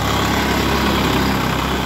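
A Farmtrac 50 tractor engine runs steadily at 1500 RPM, giving a close, constant, low diesel drone with no change in pace.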